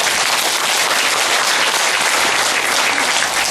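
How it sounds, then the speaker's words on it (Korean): Applause from a seated audience at a Buddhist meditation panel discussion, with dense, steady clapping filling the room at close range and no voices over it. "두 분께 박수 좀."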